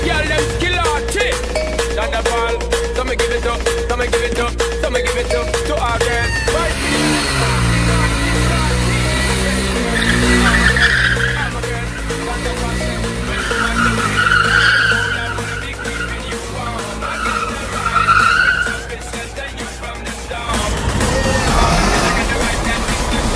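Tires skid and squeal during motorcycle stunts, loud engine revving and repeated screeching bursts up close, with engine noise throughout.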